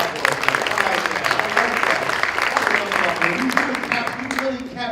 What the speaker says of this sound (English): just give her a hand clap